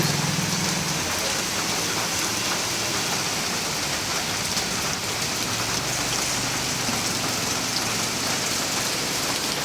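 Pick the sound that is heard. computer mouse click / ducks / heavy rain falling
heavy rain falling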